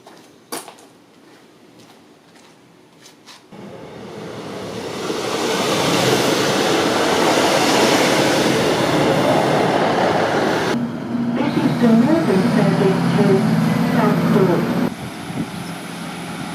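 A Class 156 diesel train at New Lane station swells into a rumbling roar from about three seconds in, running loud and steady alongside the platform before easing off near the end.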